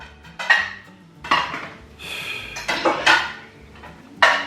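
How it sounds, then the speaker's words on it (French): Dishes and cutlery clatter and clink in bursts, with scraping and water splashing between, close by like someone washing up at a sink. "J'ai dit à Laura de laisser de la vaisselle, je le faisais moi"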